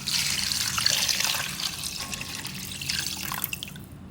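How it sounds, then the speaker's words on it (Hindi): Water is poured from a glass into a pot of whole spices such as black pepper, cloves, fennel and coriander, a close splashing rush that tapers into trickles and drips. "पानी डालूंगी इसमें 3 गिलास"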